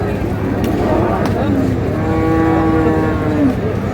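A dairy cow or calf at a busy cattle market lets out a long, low, drawn-out moo amid steady crowd noise and nearby chatter.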